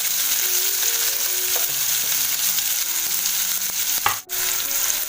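Mustard seeds, curry leaves and onion sputtering in hot oil for a tempering, a dense steady sizzle with scattered pops and a brief stirring scrape near the end, close and alone without voices.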